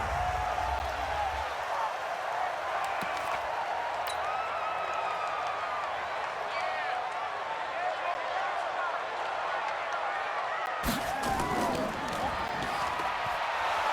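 Stadium crowd noise from the Madden NFL 20 video game, a constant loud roar filling the background, with a brief sharper burst near the end.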